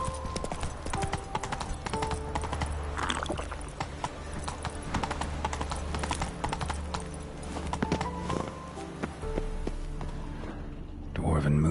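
The horse Roach trots with steady, rhythmic hoof clip-clops in The Witcher 3 video game, continuous and fairly close, mixed with faint game ambience and a brief voice.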